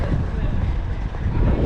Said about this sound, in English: Now it's windy there.